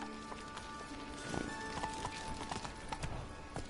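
Horse hooves clip-clop at a trot in The Witcher 3, a steady run of soft thuds under faint game ambience and music, with no talk.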